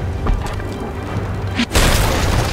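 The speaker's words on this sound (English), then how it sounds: "Oh, they're shooting balls at us now." A cannonball fires at the ship in the pirate video game Sea of Thieves, a single loud boom bursting in after a brief dip and leaving a broad rumbling wash over the ongoing game noise.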